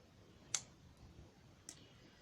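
Scissors snip crochet yarn ends in two faint, crisp clicks about a second apart, with quiet room tone in between.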